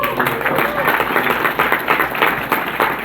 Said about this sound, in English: give your leaders another round of applause